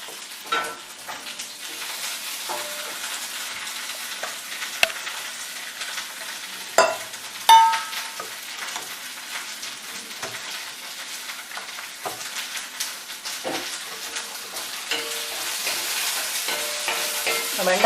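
Okra sautéing in a pan for a festive lunch, a soft continuous sizzle with scattered spatula taps and scrapes at close range, and no talking.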